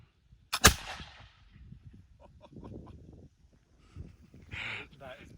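A single loud, sharp rifle shot fired on command during a period arms drill, a sudden broadband crack with a short decay, followed by quieter background talk and movement.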